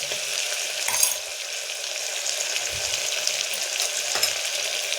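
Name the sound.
stirring tomato rice with salt and turmeric in pan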